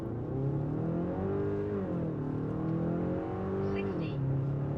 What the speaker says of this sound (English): Let's do it one more time. 0 to 100, front-wheel drive,